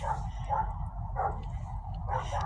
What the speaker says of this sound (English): Pretty dogs. Great Dane. And that big dog.